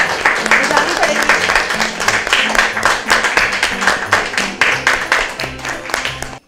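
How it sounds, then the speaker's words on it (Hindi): Audience applause at a Christmas Day Catholic gathering: dense, steady clapping from a crowd for the whole stretch, with voices and low tones running underneath. "चलें जी मिस रूथ के लिए जोरदार तालियां।"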